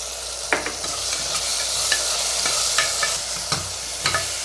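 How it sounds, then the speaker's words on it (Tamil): Onion, tomato and ginger-garlic paste stirred and frying in a pan, with a steady sizzle broken by repeated scraping strokes of a spoon about every half second to second, close and moderately loud. "வெங்காயம் நல்லா வதங்கிட்டு இப்போ தக்காளி சேர்த்துக்கலாம் இப்போ இஞ்சி பூண்டு பேசி போட்டுக்கலாம்"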